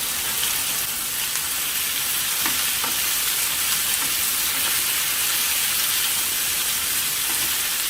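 Vegetables sauté for a beef lasagna, giving a steady, close, even frying sizzle in a pan without speech.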